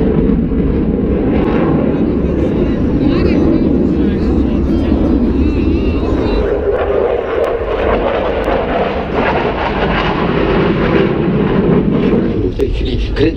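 A Belgian F-16 fighter jet flies aerobatics over a crowd at the Radom air show, its engine a loud, continuous roar that holds steady throughout, with people talking underneath.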